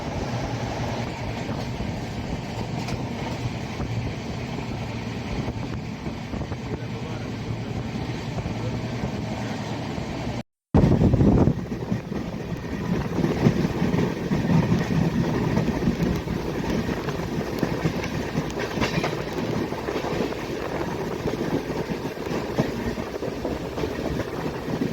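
The Darjeeling Mail runs at about 100 km/h with a steady rattling roar of wheels and carriages mixed with rushing wind. A brief dropout comes near the middle, then the loud clatter returns.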